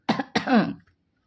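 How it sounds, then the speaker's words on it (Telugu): A man clears his throat and coughs twice in quick succession, close and fairly loud, a rough harsh burst followed by silence. "గొంతు సవరించుకుంటూ దగ్గాడు"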